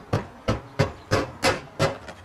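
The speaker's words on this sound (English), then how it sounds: "we're just putting the nail right back in the same nail hole with the counter flashing" A hammer drives 7D galvanized nails into roof counter flashing, six sharp, evenly spaced blows about a third of a second apart, close and loud with no talk.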